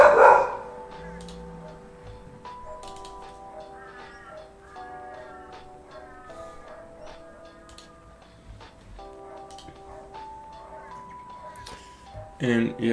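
A dog barks indoors in short, loud bursts, once at the start and again near the end. People talk in between the barks.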